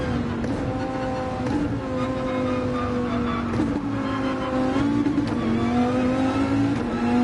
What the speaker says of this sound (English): it was slow there for over-revving the engine and braking past the apex